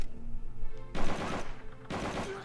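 An MG42 machine gun in Call of Duty 3 fires in two loud sustained bursts, each about a second long, separated by a short lull with quieter background game noise.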